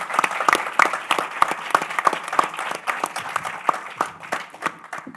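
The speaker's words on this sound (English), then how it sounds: "Round of applause," An audience at a green entrepreneurs' pitch event gives a round of applause, a moderate crowd clapping with distinct individual claps standing out, fading gradually toward the end.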